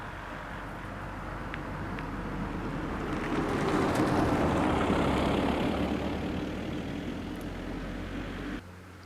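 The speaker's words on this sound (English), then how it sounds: "This is a car ruining my shot." A passing car swells in from a low engine rumble, peaks near the middle and fades away again, the steady motor and road noise continuous before cutting off abruptly at the end.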